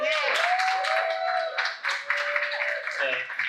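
Applause and cheering for the brewery team at an Eastbound Brewery launch event, a dense burst of clapping with a sustained whistle-like tone running through it, loud and close throughout.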